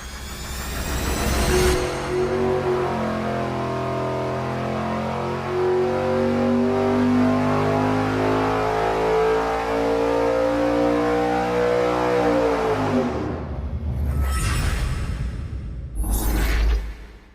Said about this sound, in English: We're testing various nitrous systems on my 582 cubic inch big block Chevy